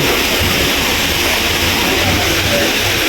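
Steady, dense rain hisses loudly and continuously at the Ruins of St. Paul's in Macau, a broad even wash of sound with no pauses.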